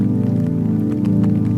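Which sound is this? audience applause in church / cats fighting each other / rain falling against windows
rain falling against windows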